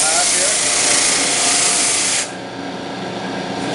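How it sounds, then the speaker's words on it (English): A drum sander flattening a wood surface at 80 grit gives a loud, continuous broadband hiss and whir that drops slightly partway through as the pass ends or the load eases. "we're going to keep sanding here a little bit"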